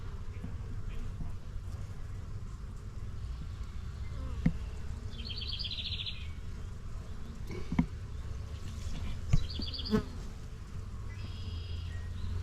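Honeybees buzz around an open beehive during an inspection, a steady close drone with occasional louder passes of individual bees and faint handling knocks.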